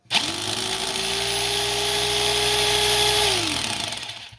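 A hammer drill bores into a kitchen wall during installation of a microwave bracket, one loud continuous motor whine and grinding that holds steady for about three seconds before winding down.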